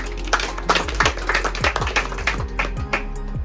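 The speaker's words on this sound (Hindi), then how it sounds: "ऐसे नरेंद्र मोदी प्रधानमंत्री जी के लिए ताली हो जाए" A small audience claps at a public talk, giving loose, uneven hand claps that patter at close range over a low steady hum, with no voices over them.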